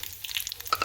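Hot phodni of mustard seeds, cumin, turmeric and asafoetida poured over green chilli thecha, a quick crackling sizzle of spitting seeds that builds toward the end, with no talk.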